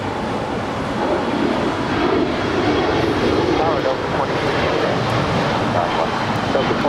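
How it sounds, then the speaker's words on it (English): A Japan Airlines Boeing 777-300ER jet turns at Los Angeles International Airport, its engines giving a continuous broad rumbling roar that stays steady and fairly loud throughout. "It's Japan Airlines Flight 61 heading back to Tokyo Narita on that 777-300ER"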